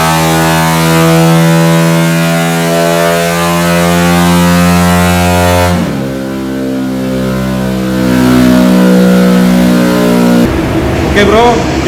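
A Honda PCX160 motorcycle scooter bored up to 180cc revs hard on a dyno, its engine rising and holding high in long loud sweeps, dropping briefly between runs, with a voice heard faintly near the end.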